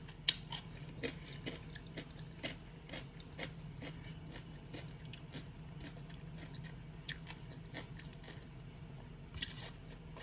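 Quiet, close chewing of a warm chayote and fig crumble made with butter, with soft irregular crunches and clicks scattered over a low steady background and no talking.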